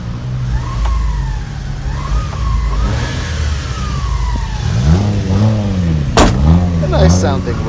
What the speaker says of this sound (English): A nice sounding rev, but not nearly as nice as this sounds.